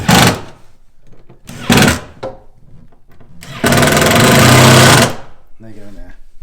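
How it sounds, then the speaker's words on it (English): An electric screwdriver drives screws into a 1930s East German knockdown pine wardrobe, giving several short loud whirring bursts and one longer burst, with handling clatter between them. "And then I'm going to cheat with an electric screwdriver."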